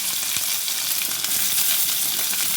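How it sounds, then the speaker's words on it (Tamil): Curry leaves splutter in hot oil, a dense, continuous, close crackling sizzle with tiny popping bursts and no voices. "கருவேப்பிலை பொரிஞ்சிடும்."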